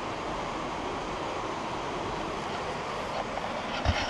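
Water rushing over the top of a waterfall on Sentinel Creek along the Pinto Lake Trail, a constant distant roar like wind or surf, steady throughout with a couple of faint knocks near the end.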